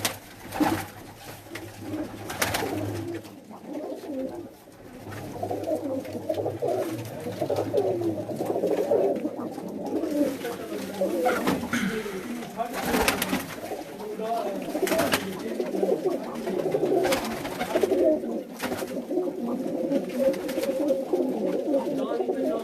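Dyed pigeons on a rooftop coo and murmur in a steady, close chorus that runs throughout, with scattered brief clicks and flutters over the cooing.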